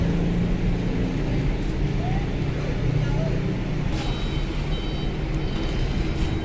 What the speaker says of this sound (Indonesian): Sudah mulai bertambah kendaraan truk yang di lapangan parkir depan kapal.